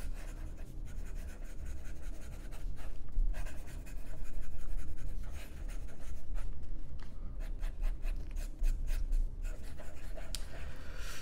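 A Platinum 3776 celluloid fountain pen writing fast on paper, a continuous close scratchy rustle of nib strokes with short rhythmic swells and no talking.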